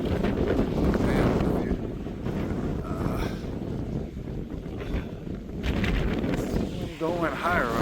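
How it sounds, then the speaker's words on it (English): Strong wind roars across a hillside campsite on the Appalachian Trail in New Hampshire, buffeting the microphone with a constant loud rumble that swells and eases throughout. "Of course it was windy."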